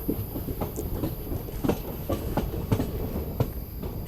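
Express train from Bengaluru to Murdeshwar rolling off the main line onto a loop, with a steady low rumble and rhythmic clickety-clack of wheels over rail joints, heard close from on board.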